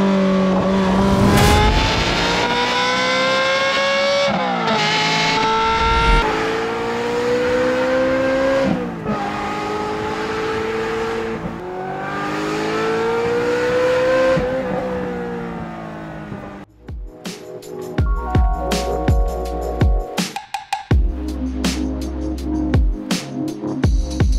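A Ferrari 355 Spider with an automated gearbox pulls away on the road. Its engine note climbs repeatedly through several gear changes, loud and close. In the final seconds it gives way to a choppier, stuttering burst of sound.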